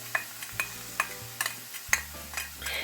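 Swiss chard leaves and garlic are stirred in a pan, with regular spoon scrapes and taps about twice a second over a soft sizzle.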